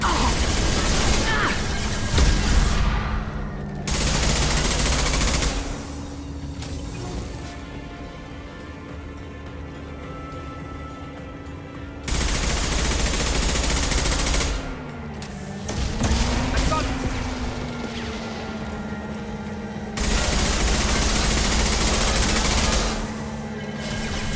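Heavy bursts of gunship cannon fire in Mass Effect 2 arrive in three long, loud volleys separated by lulls, with a rising mechanical whine and distant booms between them.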